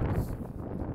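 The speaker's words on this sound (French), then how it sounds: "Il y a un gros vent de face." Strong headwind buffets the microphone during an outdoor run, a brief, dense low rumble of gusting air with no voices over it.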